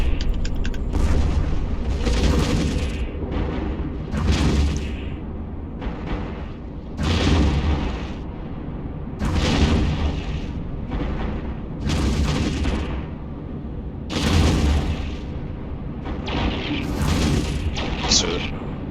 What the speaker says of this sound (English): These are the sentry guns.